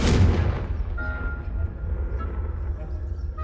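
The Confringo explosive spell goes off in the video game Hogwarts Legacy as a single heavy blast with a deep booming rumble that decays slowly across the short clip, loud and close.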